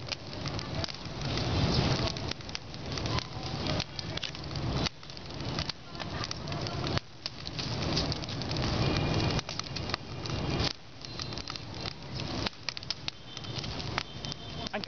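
A freshly lit fire crackles and hisses in a steady, dense patter close by, with people talking on and off over it.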